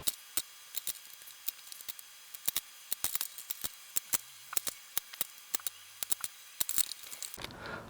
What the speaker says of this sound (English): I'm going to go ahead and cut out the holes on the other side